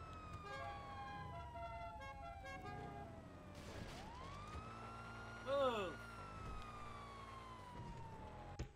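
A police siren from a motorcycle cop sounds in the GTA video game, a wailing tone sweeping up and down over engine noise. A brief sharper yelp burst comes about midway through.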